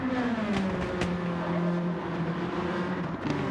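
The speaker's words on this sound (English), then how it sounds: "Just hit the overrun on the engine there." Race car engine on overrun during a circuit race, a steady close droning tone that slides down in pitch, with faint crackles and a lighter high whine over constant engine noise.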